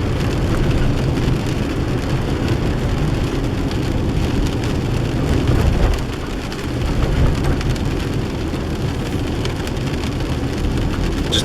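Rain falling steadily in a Pacific Northwest coastal rainforest, a loud, dense, continuous wash of drops with no voices.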